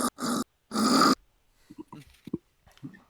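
A person growls in imitation of an animal, two loud rough bursts close to the mic, followed by quieter murmured talk and breathy sounds.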